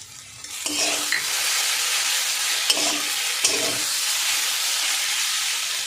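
Dried red chili frying in oil for a kochur loti curry: a constant sizzle with several scraping stirs of a spatula against the pan, close and loud, no talk.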